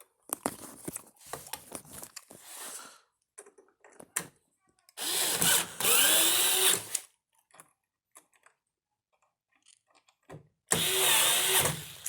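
A power drill drives screws back into a Samsung Flexwash washer in two loud sustained whirring bursts, with quiet clicks, handling noise and brief talk between them.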